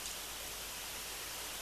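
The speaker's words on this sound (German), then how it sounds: "ich merk, dass es regnet" Steady rain in the Minecraft video game, a constant hiss of falling water with no breaks and no voices, fairly quiet throughout.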